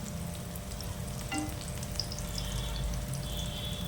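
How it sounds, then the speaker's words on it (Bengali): Battered prawn-head pakoras fry in hot oil over a low flame, giving a steady close sizzle and crackle with faint stirring, continuous and alone. "এবার এই একইভাবে অপর পিঠটাও আপনারা হালকা লাল করে ভেজে নেবেন।"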